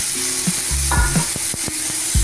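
Ground tomato sautéed in a pan with ginger-garlic paste for a potato masala, giving soft sizzling and scraping stirs in short irregular strokes, with a faint tonal hum underneath.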